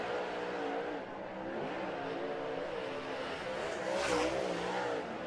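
A dirt late model race car on a qualifying lap at Atomic Speedway roars steadily at high revs, its engine note rising and falling through the turns, loud and continuous with no talk.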